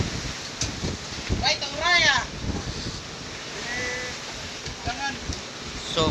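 Gusty wind buffets the microphone with low rumbling on a boat at sea, while faint chirping birds sound in the background.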